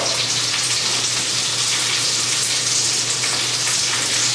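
Garlic, onions and butter sizzle in a hot pan with Brussels sprouts, a loud continuous steady frying hiss close up, with no one talking.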